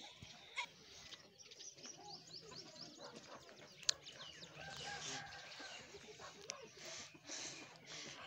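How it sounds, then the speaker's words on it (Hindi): Several village-raised chickens cluck and murmur softly at a distance near their coop, with scattered bird calls and occasional sharp clucks over a quiet background. "ये मुर्गियों का घर है"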